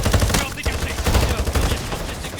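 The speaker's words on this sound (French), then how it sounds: "Ah, ça c'est une mitrailleuse" Rapid machine gun fire from the Modern Warfare 4 campaign, a dense, loud stream of bursts with continuous rattling shots and booming low impacts, and a voice speaking over it.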